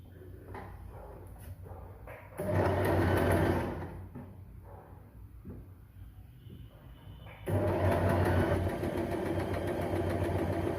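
A sewing machine stitching folded blouse fabric, running in loud steady bursts with quieter pauses between runs, the motor whirring hard during each pass.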